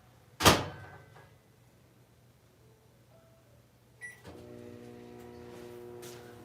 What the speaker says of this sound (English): let me put it in the microwave